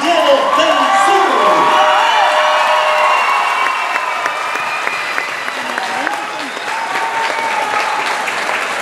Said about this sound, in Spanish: Este aplauso es para